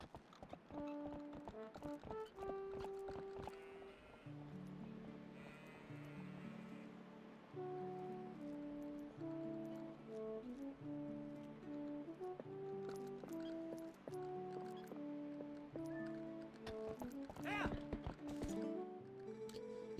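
Epona, the horse in the video game Zelda Twilight Princess, walks with a soft repeated clip-clop of hooves under gentle game music, with ambient wind and water noise in the background.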